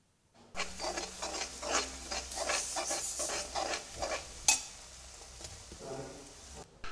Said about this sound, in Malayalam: ഈ മസാലകളൊക്കെ ഒന്ന് ഇതിലൊന്ന് വഴറ്റി കൊടുക്കുക.